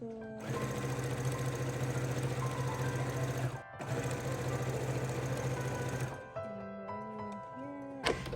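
A sewing machine stitches a tote bag in a long, steady motor whir, loud and close, pausing briefly once and then running on before stopping, with a voice faintly present near the end.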